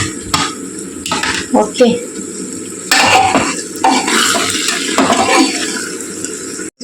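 Homemade sambar powder and salt mixed in a pan, with loud clattering and scraping of a utensil against metal in uneven bursts, close by, and a brief word spoken.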